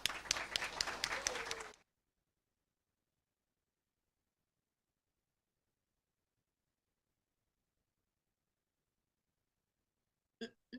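An audience applauds to welcome a speaker joining a college live-streamed conference online: a short burst of crowd clapping that cuts off sharply into near silence, with a faint click near the end.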